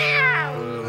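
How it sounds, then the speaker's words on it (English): A cartoon cat from an animated series lets out one close, loud, wavering meow that falls away into a drawn-out tail. "Hello, Millie's ugly cat"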